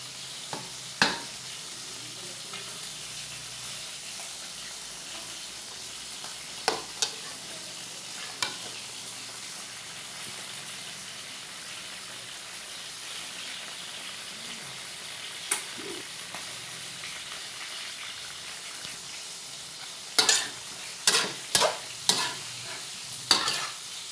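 Pork adobo sizzles steadily in a pan, with sharp scraping clicks from stirring scattered throughout and bunched more densely near the end.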